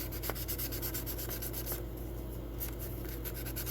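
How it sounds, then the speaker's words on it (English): The edges of a silver-plated brass guitar pick are rubbed on 600-grit sandpaper, making soft, steady scratchy strokes up close at low volume. "Some 600 sandpaper here. I can work on these edges just a little bit."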